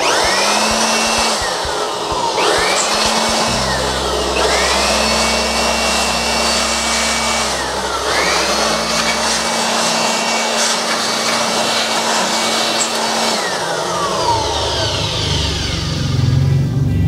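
A SELLERY 07-471 portable hand blower blasts dust off a computer in loud, steady bursts, its motor whine rising and falling as it switches on and off several times, with no voices.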